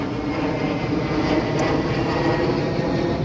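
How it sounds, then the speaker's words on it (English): An airplane passes overhead in a garden setting, giving a loud, continuous broadband engine roar that holds steady throughout, with no one speaking. "Sorry about the plane."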